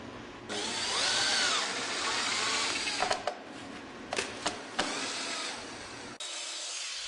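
Power drill driving screws to fasten Trex Transcend railing support brackets to a deck post, a steady whirring drone with several short bursts as each screw seats, close and alone.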